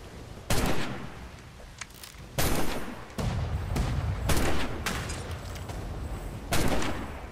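A ship's chase cannons fire in a naval video game as loud, booming blasts, with about five heavy shots spaced unevenly and rumbling decay between them.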